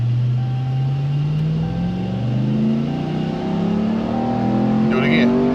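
A 2021 Ram TRX pickup accelerating hard, its engine note climbing steadily in a loud, continuous roar heard from inside the cab, with a gear shift near the end.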